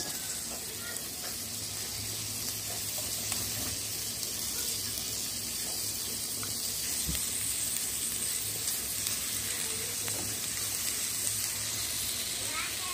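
Potatoes, bacon and calabresa sausage frying in oil give a steady, close hiss and crackle of sizzling throughout, with a person speaking over it.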